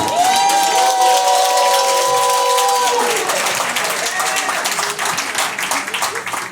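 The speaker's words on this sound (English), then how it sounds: "Let me just give another round of applause to Eric Gonzalez, our district attorney" Applause and cheering from a Brooklyn event audience for the district attorney, loud and sustained, with raised voices and whoops in the first half giving way to a dense wash of clapping.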